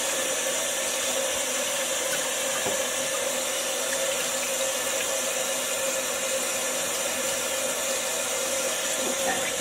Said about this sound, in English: I'm going to take 4 of these and I'm going to go wash them.